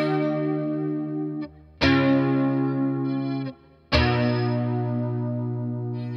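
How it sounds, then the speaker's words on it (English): Strat guitar through a Boss Katana amp dialed for a Gilmour-style classic rock tone, with three loud, sustained strummed chords, each ringing out with chorus-like shimmer and light drive before the next is struck. "It's a cool Strat sound, and it's pretty emblematic of what you would hear in most 60s and 70s classic rock"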